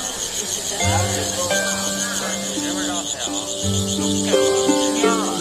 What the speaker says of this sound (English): City dwellers love the songs of grasshoppers, and they're often kept in decorative ceramic pots designed to amplify their chirping.